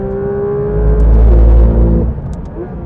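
Porsche 992 GT3 RS pulling hard in third gear on a race track, a loud, close engine roar with steady harmonic whine that swells in strength mid-way then eases off, alone without talk.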